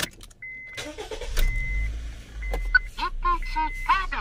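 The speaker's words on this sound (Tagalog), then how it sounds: "So ngayon i-start natin yung engine." A 2009 Honda Fit engine cranks and catches after a few chime-like beeps, settling into a low idle rumble while people talk nearby.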